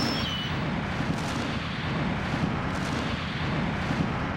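Distant blasting explosions during Panama Canal construction, a dense rumbling roar with repeated faint bursts blending into a continuous low wash, fairly quiet and without talk.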